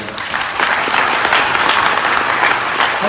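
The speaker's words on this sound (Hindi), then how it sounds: "इसलिए मोदी केयर के लिए जोरदार तालियां" Loud crowd applause at a rally stage event, a thick continuous roar of clapping hands that swells after a softer opening and holds steady to the end.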